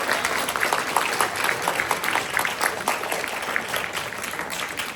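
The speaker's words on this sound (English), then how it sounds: "would every single student that is in this auditorium please applaud and thank your families" Students in a school auditorium at a high school winter band concert break into sustained applause, a dense patter of many hands clapping at once that holds steady for several seconds.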